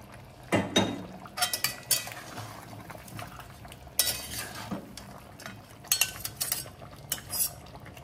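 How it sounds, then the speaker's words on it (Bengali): A spoon stirs country chicken curry with potatoes and garlic in a pan over a high flame, giving irregular metallic scrapes and clinks against the pan over a soft sizzle. "ভালো করে নাড়াচাড়া করছি। ফ্লেম হাই আছে। আলু রসুন দিয়ে দিলাম।"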